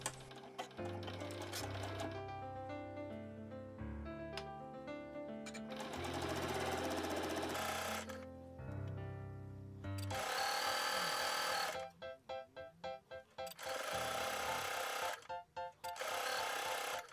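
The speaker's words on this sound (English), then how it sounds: "And then I sew them in place using a 1/4 inch seam allowance." A domestic sewing machine stitches fabric strips for a duffle bag at a quarter-inch seam, its needle chattering in rapid steady bursts with brief pauses, close and loud, while background music plays.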